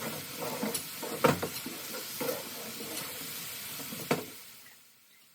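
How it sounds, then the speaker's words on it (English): A tomato stirred into a sizzling home-cooked dish, a steady close frying hiss with a few scraping stirs and knocks of the spoon before it quiets at the end. "He's added the tomato now and he's going to just mix this well together"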